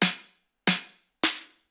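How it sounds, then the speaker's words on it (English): Three separate hits of a bright, punchy layered snare and clap drum sample from a melodic techno track, each with a crisp attack and a short decay, spaced evenly apart with silence between them. "And this is a really nice, bright sounding snare, really powerful."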